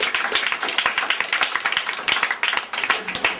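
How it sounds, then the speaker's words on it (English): At a schools debate, an audience claps for a speaker on the proposing side: a brisk, fairly close round of individual hand claps with an uneven, lively rhythm that continues throughout. "A round of applause for him"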